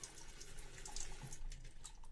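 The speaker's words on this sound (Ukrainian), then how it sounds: "Перевіряємо справність кранів в туалетних кімнатах" A tap runs in a passenger train carriage toilet during a faucet check, giving a steady, fairly quiet hiss of flowing water with faint splashing into the basin throughout.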